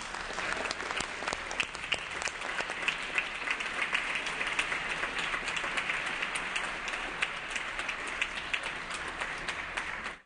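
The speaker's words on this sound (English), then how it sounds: "please join me in giving a big round of applause to these 3 extraordinary and outstanding California educators" Assembly members in the California legislative chamber give sustained applause honoring three educators, a steady wash of clapping from many hands lasting throughout and ending abruptly.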